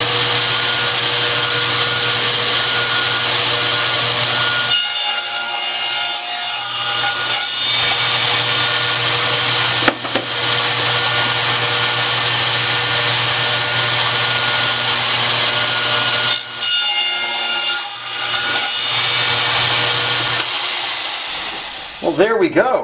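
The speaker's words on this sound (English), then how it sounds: "Be good if I plug the saw in." An electric power saw cuts wood while building a DIY arcade game controller, a loud sustained whirring drone broken by a few short pauses and clunks, with no talk over it.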